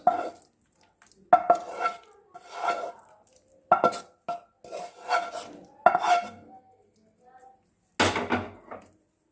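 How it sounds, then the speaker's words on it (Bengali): Baingan bharta, a mashed eggplant dish, is scraped and tipped from a cooking pan onto a plate with a spoon, making a string of close, short scraping and clinking bursts separated by pauses. "এবার আমরা প্লেটে ঢেলে দিচ্ছি"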